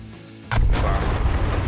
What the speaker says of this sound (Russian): Каждая бомба по-разному взрывается.